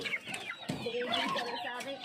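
Cebu heritage chickens cluck and chatter close by in a busy, continuous jumble of calls on a farm, with a faint voice mixed in.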